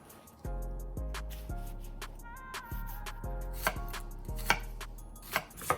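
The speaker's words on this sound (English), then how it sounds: "Dice an onion." A knife dices an onion on a cutting board, giving about ten firm, evenly spaced chops, close and clear, each with a short woody knock, in a quiet kitchen with no voices.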